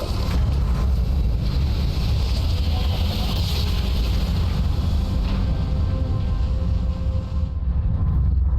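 A spaceship drive in Starfield spinning down, heard as a steady, loud rumbling whoosh with a broad airy roar that holds nearly level and then cuts out abruptly near the end.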